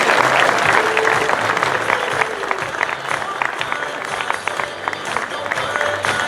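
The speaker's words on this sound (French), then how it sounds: "je pense qu'on peut encore les applaudir bien fort" An audience applauds students at a town medal ceremony in Comines, with sustained, dense clapping from a sizable crowd and a few voices murmuring underneath throughout.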